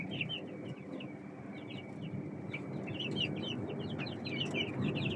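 Australorp chicks and chickens, about twenty days old, fill a coop with constant high peeping and soft clucking, many birds chirping together close by over a low steady background hum.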